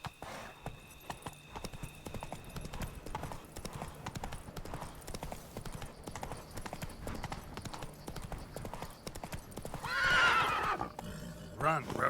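The horse Roach gallops in The Witcher 3 with a rapid, rhythmic clip-clop of hooves throughout and a loud whinny near the end, while someone speaks now and then over it.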